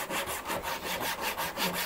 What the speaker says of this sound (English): I wanted to use this Japanese pull saw for a while